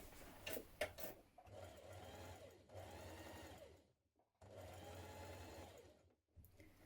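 A sewing machine understitches along the side of a jumpsuit pocket, catching the seam a few millimetres away, running in two long, steady close-up bursts with a brief stop between them.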